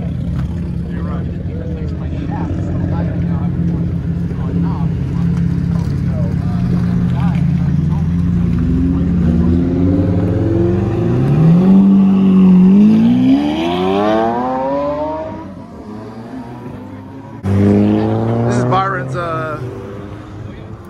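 A 1997 Porsche GT3 RS with a manual gearbox drives on a winding mountain highway, its engine droning loudly and steadily, then sweeping upward in pitch as it revs, with a brief burst of higher revving near the end while people talk.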